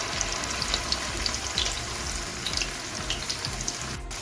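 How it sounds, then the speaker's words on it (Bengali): Mustard flower fritters in rice flour batter fry in hot oil with a steady, dense crackle and sizzle, close and fairly loud throughout, no talking. "চালের গুঁড়ার ময়দা দিয়ে এভাবে ফুলগুলো ভেজে নেবেন"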